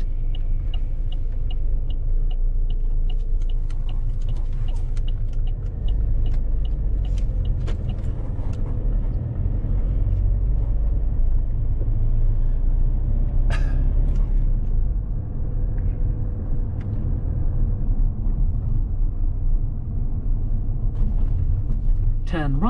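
Late-night road traffic in London, a steady low rumble of passing cars and buses that continues throughout, with a sat-nav voice and people talking over it.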